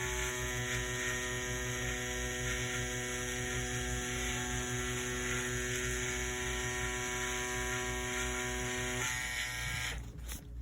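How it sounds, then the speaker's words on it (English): A tattoo machine runs steadily at 7 volts pushing a 9 round shader, giving a loud, continuous electric buzz with a strong hum for about nine seconds before it cuts off near the end. "let's just see how this machine pushes a round shader"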